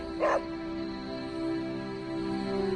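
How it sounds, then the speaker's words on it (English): A single short dog bark sounds near the start in the video game Marvel's Midnight Suns, followed by quiet steady humming ambience. "Hey, Charlie Warley puppy face."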